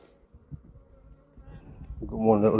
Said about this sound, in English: We've got one little bee that's very interested in the mic.